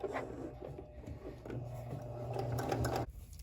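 A Kenmore 385 series sewing machine sews a herringbone stretch stitch on knit fabric, a faint, uneven mechanical whir and tapping that runs for about three seconds and then stops abruptly.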